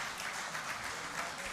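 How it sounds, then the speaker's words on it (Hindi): Faint, distant applause rises from the audience at an Urdu poetry recital, a brief, even wash of clapping heard at low level. "आप सबकी भरपूर तालियों में जनाब शुएब कयानी।"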